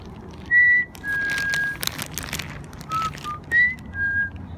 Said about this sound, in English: let's keep whistling